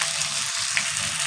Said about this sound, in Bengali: আমার কিন্তু পেঁয়াজটা একটু লাল লাল করে ভাজা হয়েছে, নরম নরম হয়ে গেছে